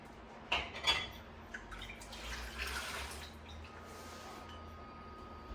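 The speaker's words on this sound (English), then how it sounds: "I will take my clean warm jars out of the pot here." Clean warm glass canning jars lifted out of a pot of water, with a few sharp glassy clinks and knocks followed by faint water trickling and dripping, close and quiet.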